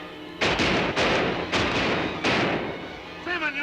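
Gunfire in a Randolph Scott western, with four loud, sharp shots spaced about half a second to a second apart, each leaving a lingering echo. A voice calls out briefly near the end.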